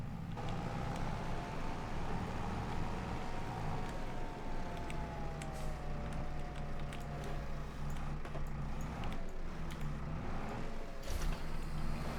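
A T6 farm tractor engine rumbles and runs close by, a low steady diesel drone with shifting pitch, occasional creaks and mechanical clunks layered over it, and no talking.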